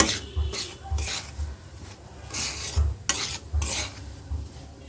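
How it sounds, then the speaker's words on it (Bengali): Semolina stirred and roasted in a pan for halwa, rhythmic scraping strokes of a spoon against the pan over a soft sizzle, with low thumps at each stroke. "আস্তে সুজির সাথে ভেজে নিচ্ছি"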